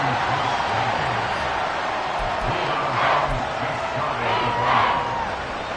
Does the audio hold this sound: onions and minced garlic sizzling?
no